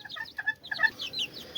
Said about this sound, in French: je vais vous montrer les jeunes poussins, enfin on pourrait limite appeler ça des poulets maintenant